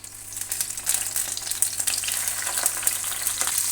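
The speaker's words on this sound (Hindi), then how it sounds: "अब ये जो नमक और हल्दी लगा के रखा था फ़िश को, इसको पहले हल्का सा फ्राई कर लूँगी।" Fish pieces rubbed with salt and turmeric fry lightly in oil, giving a steady bright sizzle with sharp spits and crackles that grows slightly louder over a few seconds, with no voices.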